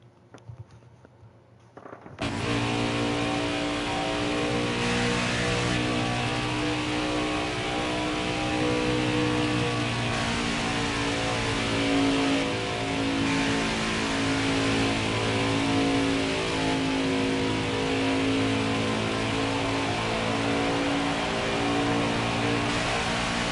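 Racing trucks in the NASCAR Craftsman Truck Series at Michigan International Speedway roar loudly and continuously as engines rev and accelerate, layered harmonic drones of several trucks passing close, starting abruptly after a brief quiet moment.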